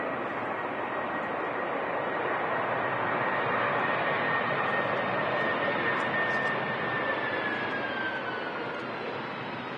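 A plane landing at Manchester Airport, a broad, steady roar of jet engines with a thin whine sliding slowly downward, heard from a distance for about ten seconds without speech.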